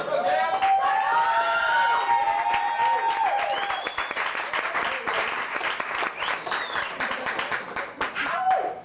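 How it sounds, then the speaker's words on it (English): An audience applauds a musician at a club night at Cafe Espresso Roma, clapping steadily for several seconds while voices and cheers mix in throughout. "Give him a big hand."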